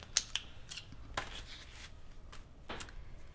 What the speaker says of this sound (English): So I'm grabbing my scissors here.